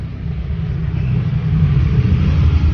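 Steady low motor hum of a sewing machine running continuously, with a dense rumble that holds even and fairly loud and no talking over it.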